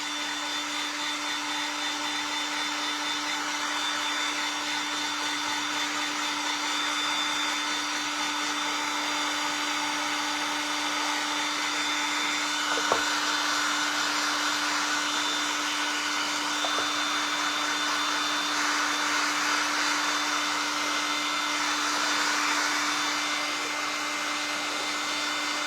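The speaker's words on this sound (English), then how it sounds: "Now what I'm going to do is I'm going to hit this with a dryer." A hair dryer blowing hot air onto a plastic dollar-store snow globe snowman craft, a loud continuous whining hum that holds steady for the whole stretch, with a couple of faint clicks and no talking.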